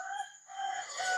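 Chickens call faintly from nearby for about a second, a short, thin, drawn-out squawk on a quiet front porch.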